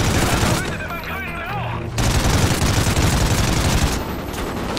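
Rapid automatic gunfire rattles in the first-person shooter Call of Duty Ghosts, loud and sustained, with a brief lull where a voice is heard before the firing resumes.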